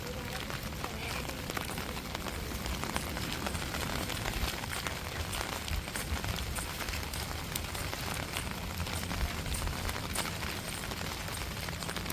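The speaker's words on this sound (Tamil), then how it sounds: "மழை லைட்டாக வெறிச்ச மாதிரி இருக்கும் ஆனால் மழை பெய்யுது" Light rain falling in a coastal village, a steady dense patter of drops on surfaces throughout, moderately quiet and continuous with no talking.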